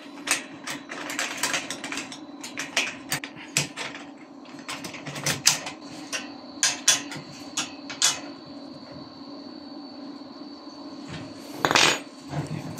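Nuts are fitted and slid into an aluminium solar panel mounting rail during installation of a bifacial 610-watt panel, producing a series of sharp metallic clicks and rattles at irregular intervals over a steady low hum, with one louder scrape near the end.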